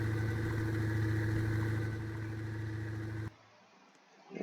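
Car engine idling in the Roblox game Vehicle Legends, a steady loud drone with rich low harmonics that holds for about three seconds, then cuts off abruptly to near silence before a faint rise at the end.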